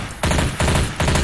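Bursts of gunfire in the Left 4 Dead 2 video game, three loud close rapid volleys of automatic shots separated by short pauses, no talking.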